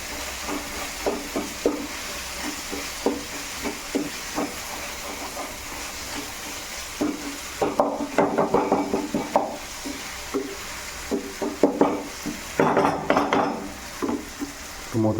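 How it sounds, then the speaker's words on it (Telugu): Dried fish fry in oil in a pan for a Telangana-style tomato curry, with a continuous sizzling hiss, close by, and metallic pan and utensil clinks scattered throughout. "వీటి ఇప్పుడు వేసి ఒక 5 మినిట్స్ లో ఫ్లేమ్లో అలా ఆయిల్లో ఫ్రై అయ్యేటట్టు చూద్దాం"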